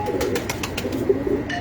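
Pigeons coo softly on a rooftop loft, a low continuous murmur with faint tapping or wing sounds above it, no voices.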